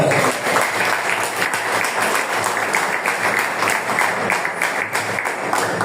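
Church congregation clapping during a Spanish-language sermon on divine healing, a loud, dense and continuous round of applause with no talk.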